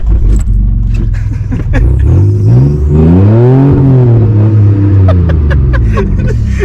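A truck engine revs hard and close, its pitch swelling up and falling back in a long surge before settling into a steady idle, with light rattles and clicks over it, in rural Vermont.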